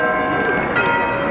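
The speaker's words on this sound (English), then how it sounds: "Quite a common feature of Bergamo is hearing a lot of bells" Church bells ring in Bergamo, Italy, a loud, sustained wash of overlapping tones that carries steadily through the whole moment.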